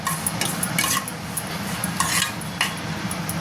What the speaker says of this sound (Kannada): ಮಾವಿನಕಾಯಿ ಏನು ಹೆಚ್ಕೊಂಡಿದ್ನಲ್ಲ ಫಸ್ಟು ಪೂರ್ತಿ ಹಾಕಲ್ಲ, ನಾನು ಸ್ವಲ್ಪ ಹಾಕಿ ಕೈ ಆಡ್ತೀನಿ ನೋಡಿ